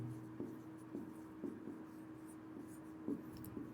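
Writing on a board during a physics lesson: soft, scratchy strokes come in short bursts at an irregular pace. The sound is quiet, with a low steady hum behind it and no speech.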